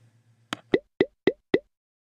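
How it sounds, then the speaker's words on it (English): Four evenly spaced, soft plucky beats counting out a whole note, preceded by a single short click, each beat brief and clear against near silence. "A whole note has 4 beats."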